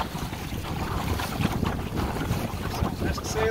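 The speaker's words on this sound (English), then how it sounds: "Just sailing today." A Shellback dinghy under sail on choppy, whitecapped water, with steady close wind buffeting and the wash of water against the hull running throughout.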